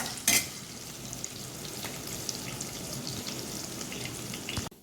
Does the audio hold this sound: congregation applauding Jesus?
no